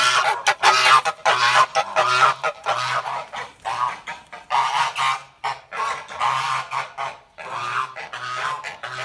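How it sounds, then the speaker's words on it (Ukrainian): A flock of geese honk loudly and continuously nearby, overlapping calls in a busy, irregular chorus without any talking. "Ранкова паєчка для наших гусей підготовлена."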